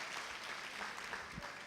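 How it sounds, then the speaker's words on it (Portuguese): A church congregation claps in a brief, soft patter of scattered hands, fairly distant and low in level. "Aplauda o Senhor"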